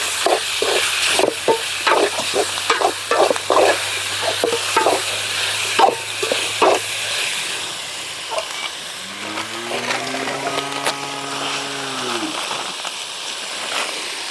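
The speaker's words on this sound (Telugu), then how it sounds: "చికెన్ హాఫ్ కిలో అన్నమాట వేసేసుకుందాం వేసుకొని అయితే ఒకసారి కలుపుకుందాం" Half a kilo of washed chicken being stirred in a pan over a wood-fired stove, steady sizzling with repeated scraping strokes, then a rising tonal whine near the end; no one talks.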